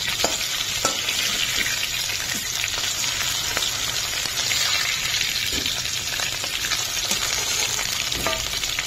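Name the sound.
frying cut potatoes in pan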